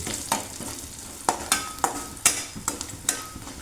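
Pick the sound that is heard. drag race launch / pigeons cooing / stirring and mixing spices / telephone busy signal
stirring and mixing spices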